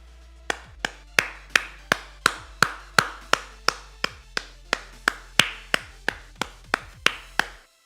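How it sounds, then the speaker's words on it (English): A single person claps their hands about twenty times at an even, unhurried pace, each clap sharp, loud and close in a quiet room, with no one talking. "that was me clapping for Ghost of Tsushima"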